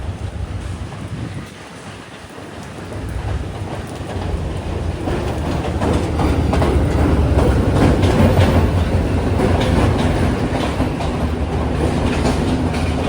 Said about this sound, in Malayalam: ഒരു ട്രെയിൻ ഇവിടത്തേക്ക് കടന്നു വരുന്നുണ്ട്.